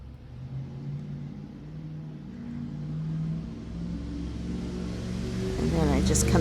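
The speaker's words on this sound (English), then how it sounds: "that was a loud truck." A loud truck engine rumble builds steadily to a close roar as it passes, with a voice briefly audible near the end.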